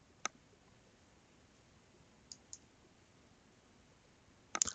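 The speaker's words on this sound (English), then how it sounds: "we simply click Create." A computer mouse clicks on a Create button in file-management software: a single sharp click near the start, two faint ticks midway and a cluster of clicks at the end, all soft against a quiet background.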